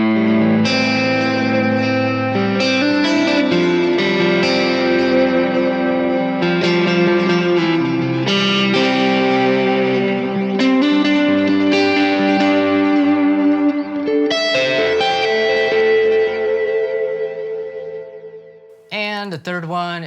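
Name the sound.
electric guitar through Kemper Divided Worship profile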